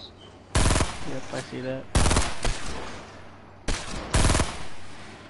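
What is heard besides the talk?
sniper gunfire in Fortnite video game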